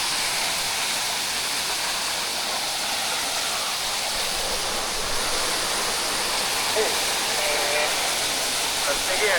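A waterfall near a fishing hut roars as a steady, loud broadband rush of falling water, unbroken and close throughout.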